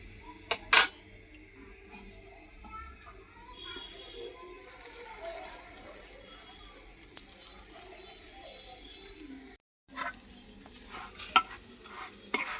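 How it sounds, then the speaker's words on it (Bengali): Keema paratha frying in a pan: a quiet sizzle broken by a few sharp utensil clinks and scrapes, a brief silent gap, then more clattering near the end. "এই যে এই রুটিটা ভাজলেই আমার ভাজা হয়ে যাবে।"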